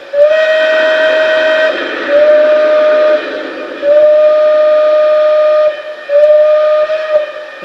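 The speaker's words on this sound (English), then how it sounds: "let's listen to the whistle" Whistle of a Lionel TMCC Chesapeake & Ohio 0-8-0 switcher model steam locomotive: four loud, close, steady blasts, some long and some shorter, with a throaty tone and brief gaps between them.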